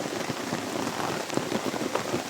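Rain falls steadily in the open, a dense even patter of drops striking nearby surfaces, close and constant throughout with no voices.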